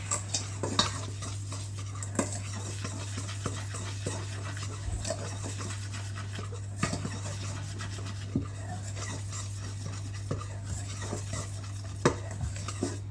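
Steady stirring of gluten-free pastry flour and sugar in a bowl, a continuous soft scraping and rubbing with occasional light knocks of the utensil against the bowl, under a constant low hum.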